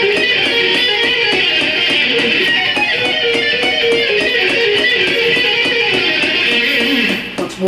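Fast two-string arpeggios on an electric guitar, each rapid note sharply picked in a tight, even rhythm over a steady metronome click, loud and close with no voices.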